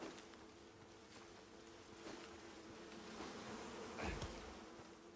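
Bees buzz steadily around an apiary in the survival video game Icarus, a constant insect drone at moderate loudness with a brief louder rustle near the end and no speech.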